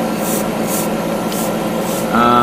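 An airbrush or spray gun coats parts of a 1/144 HG Gundam G40 plastic model kit, giving a steady loud hiss with a few pulsing passes over a constant compressor-like drone that grows louder near the end; no talk.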